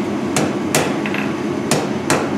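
Hot iron being forged into a horseshoe trivet takes four crisp hammer blows on an anvil, spaced unevenly, with a light tap or clink between them. The blows sound close and bright over a low background hum, and no one speaks.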